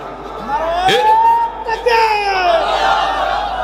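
Large crowd at a Bangla religious sermon gathering shouting a loud, sustained chant of Allahu Akbar together in response to the preacher, voices swelling and overlapping in a rising, echoing roar over several seconds.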